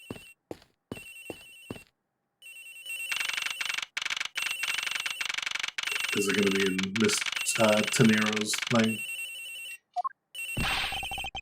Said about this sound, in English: The ringing is coming from somewhere in here,